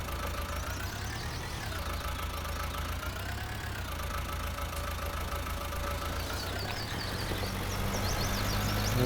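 A tractor engine idles steadily in Farming Simulator 19, a low, even mechanical drone with a faint whine that swells slightly louder toward the end.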